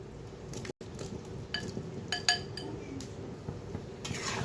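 Potatoes dropped into a pot of water for a vegetarian Kashmiri aloo dum, with a few close clinks and knocks against the pot over a steady kitchen background.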